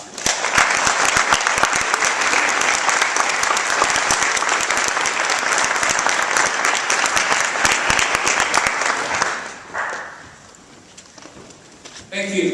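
Crowd at a sustainable agriculture conference applauds the keynote speaker, loud dense clapping for about nine seconds that fades out, followed by quiet room sound and a voice starting to talk at the end.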